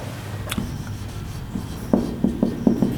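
Chalk or marker strokes on a classroom board, a few short scratchy taps and squeaks clustered near the end, fairly close and unaccompanied by talk.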